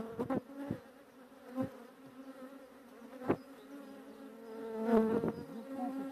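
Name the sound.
honey bees buzzing around hive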